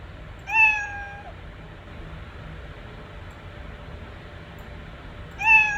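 A cat gives two clear meows, one near the start and another at the end, over a quiet background hum.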